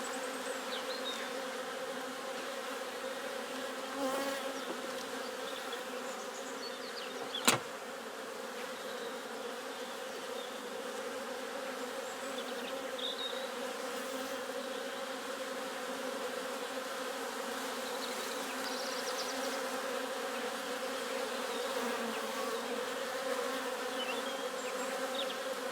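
A dense, continuous drone of honeybees buzzing around an open hive during a beekeeping inspection, steady and fairly close, with one sharp click partway through and no talking.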